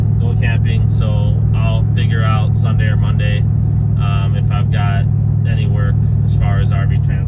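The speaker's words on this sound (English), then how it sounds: "There's one of those Freightliner things going by." A Freightliner truck goes by with a steady low engine rumble that stays under someone talking throughout.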